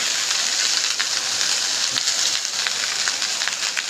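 Curry leaves sizzling in hot oil as they go into a pan of coconut rice, a steady, dense crackling hiss that stays loud and even throughout, with no voices.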